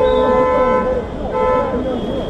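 Car horns honk in dense evening traffic at a crowded border crossing into Morocco, two long loud blasts close by, one after the other, over a steady roar of vehicles.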